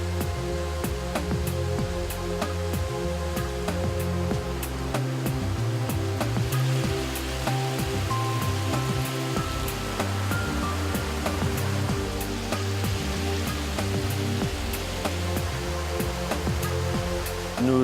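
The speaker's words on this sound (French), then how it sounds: "l'eau claire va, elle, surverser du bassin pour partir vers un dernier traitement" Clear water spilling over the edge of a settling basin at a sewage treatment plant, a continuous close splashing wash with faint mechanical hum and ticking beneath.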